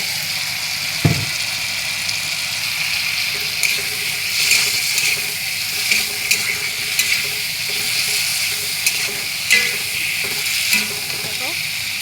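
Potatoes cooking in a pan with a constant hissing sizzle and occasional stirring clinks over it, close and fairly loud throughout.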